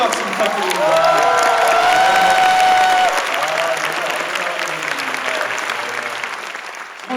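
Loud, sustained audience applause and cheering at the Blue Dragon Film Awards, a large crowd clapping under a voice speaking with a tonal, sung quality, fading slightly toward the end.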